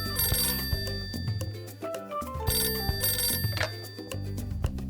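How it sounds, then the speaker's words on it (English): A telephone rings with repeated bright, electronic trilling bursts over a steady musical backdrop, loud and close, with no talk. "Hello, Faye and Fluffy's fabulous friend phone line."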